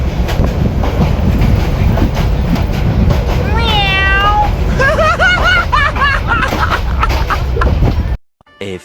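A train running on the Dhaka to Netrokona line rumbles loudly and steadily nearby for about eight seconds. Squealing tones rise in the middle, and crowd murmur runs underneath before the sound cuts out abruptly.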